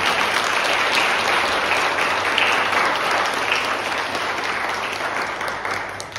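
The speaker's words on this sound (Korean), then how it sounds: "우리 박수로 축하드립니다." A church congregation claps after a baptism in a steady, full burst of applause that slowly thins toward the end, with no talking over it.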